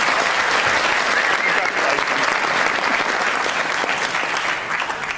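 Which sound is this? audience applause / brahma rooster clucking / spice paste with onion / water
audience applause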